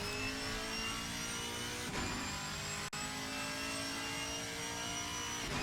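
A V8 race car in the Assetto Corsa Competizione racing game at Zandvoort gives a steady, mid-level engine drone with sustained tonal harmonics, broken by a brief dip near the end.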